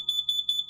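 A combination carbon monoxide and smoke alarm sounds a rapid series of shrill, piercing electronic beeps, close and loud with nothing else heard.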